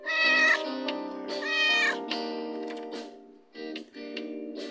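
A cat in a Dracula-themed romance video game meows several times, clear and close, with drawn-out plaintive calls separated by brief pauses and no talking.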